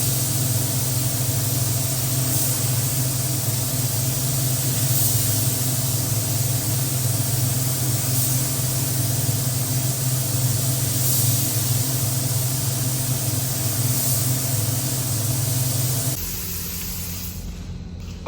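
Steady hiss of a spray gun applying Awlgrip LZ custom blue topcoat to a boat hull, continuous and close over a constant machine hum, stopping abruptly near the end.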